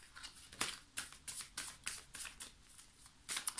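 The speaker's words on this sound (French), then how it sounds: "Je vais recouvrir les cartes." Tarot cards slide and flick against each other in repeated quick bursts, a close, crisp papery shuffling with short pauses between handfuls, no voices.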